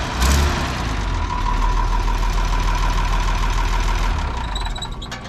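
At an outdoor farm auction, the Perkins diesel in a 1967 Oliver 1850 front-wheel-assist tractor rumbles loudly and steadily up close, then its deep drone fades away as the engine shuts down.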